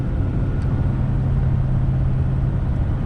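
A 2021 Ford F450 Platinum pickup towing a Diamond C FMAX 216 trailer uphill in 9th gear, its engine a steady loud droning rumble with road noise, constant and close throughout.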